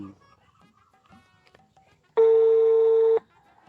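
A phone call's ringing tone sounds once as a single steady electronic beep lasting about a second, preceded by faint background noise and quiet murmurs.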